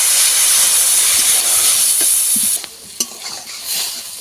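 Water poured into a hot pan of khoira river fish curry with potato and eggplant bursts into a loud, bright hiss for a few seconds, then drops to a quieter bubbling with a spoon clink.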